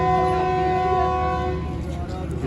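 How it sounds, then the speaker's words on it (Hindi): The Pakistan Express train standing at Khanewal Junction sounds a loud sustained horn over a low rumbling engine, with faint voices on the platform in the background. "2 मिनट ही रुकी है ट्रेन।"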